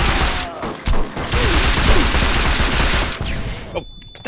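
A flashbang grenade bursting in Saints Row 2 amid heavy rapid gunfire, a loud sustained barrage of shots that cuts off abruptly near the end, with a voice heard briefly.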